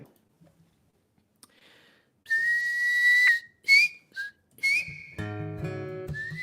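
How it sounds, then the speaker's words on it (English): A bird-call whistle known as The Ringer is blown in a quiet room: several clear, high, sliding whistled notes with short pauses between them, then a richer, buzzy warbling tone at the end. "any birders out there who recognize this bird whistle"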